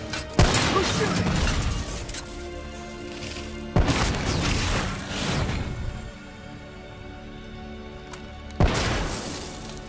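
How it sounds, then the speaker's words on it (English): Heavy bursts of gunfire and booming impacts in Call of Duty: Black Ops 3, three loud crashing blasts with rumbling debris between them, close and dense. "What the hell? Who's shooting?"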